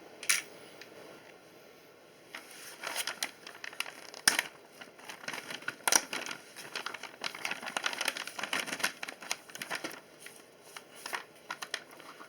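A plastic bag holding Pro-Line RC car body mounts handled and opened up close, crinkling and rustling in uneven bursts with a couple of sharp snaps, no speech.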